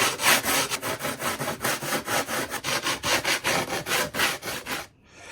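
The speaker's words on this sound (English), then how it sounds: "I'm going to use my file to file the edges off, make it more round a little bit" A hand file works the edges of a carbon fibre car splitter in quick, regular rasping strokes, roughly four per second, close and loud, for about five seconds before stopping.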